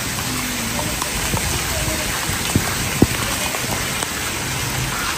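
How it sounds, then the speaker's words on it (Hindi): Steady rain hisses and patters close by throughout, with a few sharper drips and taps standing out now and then. "ये देखो बारिश हो रही है"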